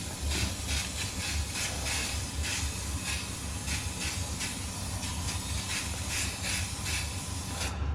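Filler primer sprays from an aerosol can onto a 3D printed Scout Trooper cosplay helmet, a loud, steady close-up hiss pulsing in short repeated bursts for about eight seconds before cutting off at the end.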